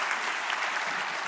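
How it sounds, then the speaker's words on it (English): A conference audience applauds after a welcome talk, a brief burst of dense, even clapping at moderate volume. "please give Chris a round of applause for all his hard work."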